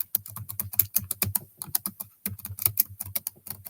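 Fast, uneven clatter of typing on a computer keyboard, close and loud, with bursts of keystrokes and a short pause partway through, no voices.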